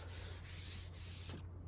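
Sanding the body of a 1984 Corvette during a rebuild: a continuous close rasping rub with slight rhythmic strokes, stopping abruptly near the end.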